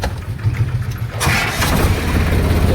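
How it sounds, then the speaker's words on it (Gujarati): A farm tractor's diesel engine turning over and catching, rising from a low rumble into a loud, steady, close idle that fills the rest of the short stretch. "ટ્રેક્ટર કરી દઈ ચાલુ"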